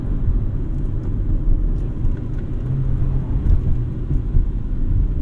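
Low, steady engine and road rumble fills the cabin of a moving 2000 Honda Civic Si, muffled and even, with no voices.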